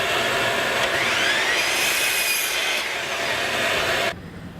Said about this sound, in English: So starting with a bunch of scraps from my pile of plywood, I'm cutting 9 by 9 inch squares to start.